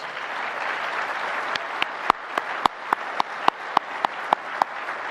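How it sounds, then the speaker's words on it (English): Conference audience at a municipal association gathering giving a round of applause, a dense wash of clapping with sharp rhythmic claps standing out near the microphone as it continues. "Let's give them a round of applause"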